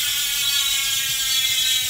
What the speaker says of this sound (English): high engagement hubs just sound really cool